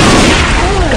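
A loud, dense blast of gunfire in Left 4 Dead 2 on Xbox 360, close and booming through a single second with no pauses.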